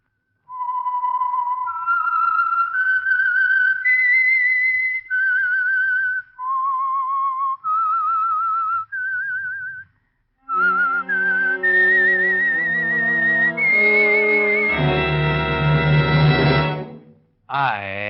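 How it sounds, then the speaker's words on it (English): A clear, close whistled melody of sustained pitched notes with short gaps, the theme of the 1949 radio program The Whistler, later joined by a fuller musical accompaniment swelling to a loud finish. "the signal to listen for is this whistle that identifies the Signal Oil program"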